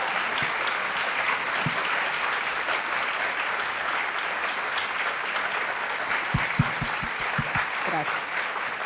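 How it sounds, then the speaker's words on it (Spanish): An audience applauds steadily throughout, a dense even patter of many hands at moderate level in a hall at an event on education, leadership and technology, with a few sharper close claps near the end. "Pues yo les invito a que le demos un aplauso a David."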